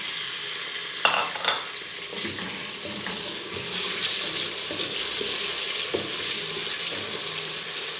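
Beef and onions frying in a pan while being stirred: a steady, close sizzle with scraping stir strokes and a couple of sharp clinks near the start, no talking.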